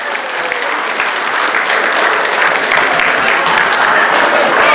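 Loud, sustained applause from an audience at a civic ceremony with the mayor present, filling the room as dense continuous clapping with faint voices mixed in.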